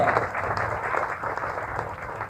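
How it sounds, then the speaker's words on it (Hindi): An audience of seated women claps together at a talk near Ghaziabad, a soft continuous patter of many hands that rises and falls slightly, heard at moderate distance without pause. "ये मेरी बात पे हंस रही है, ताली भी बजा रही है"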